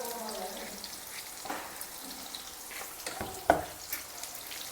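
Onions frying in oil for chicken haleem, stirred in the pan with a constant soft sizzle, occasional scraping strokes and one sharper clink of the spoon against the vessel.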